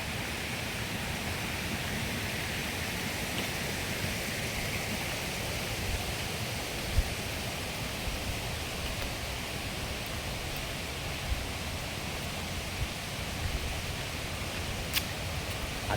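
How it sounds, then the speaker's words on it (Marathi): A monsoon-swollen river pours over a bridge near an overflowing dam, giving a loud, steady, unbroken rush of water that fills the whole stretch with no voices. "आता पण पाणी ब्रिजच्या वरतूनच आहे"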